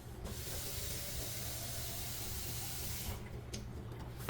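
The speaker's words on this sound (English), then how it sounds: "I'm going to fill it up with tap water." Tap water runs steadily into the tank of a K8 water ionizer in a home kitchen, a continuous broad rushing hiss with a low rumble that eases near the end.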